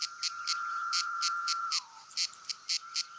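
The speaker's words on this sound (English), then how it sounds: "The cicadas here will not be heard again for another 17 years." Periodicity 17-year cicadas chorus in steady pulsing bursts at a roughly regular beat over a sustained high buzzing drone that drops away partway through, moderately loud and close, with no talking.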